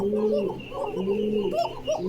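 A male pigeon at a Bangladeshi pigeon market coos in repeated low, rolling phrases, close and fairly loud, with a faint steady background hum and no talk.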